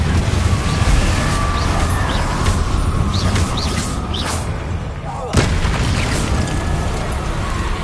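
The Confringo fire spell explodes in Hogwarts Legacy, a sharp boom rising out of steady, dense rumbling game noise with faint whistling sparks and a voice speaking.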